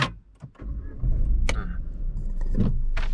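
A Peugeot 2008 B-SUV's engine is started with a push button while the brake is pressed: a few clicks and a short whir, then a steady low idle that continues to the end, heard from inside the cabin.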